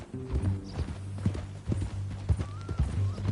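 Horse hooves clip-clop at a walking pace in Red Dead Redemption 2, close and distinct, with a steady rhythmic beat over a low hum and a brief whinny-like tone.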